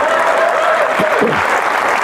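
A stand-up comedy audience breaks into loud, dense applause that fills the room steadily from start to finish, with faint voices and cheers mixed into the clapping.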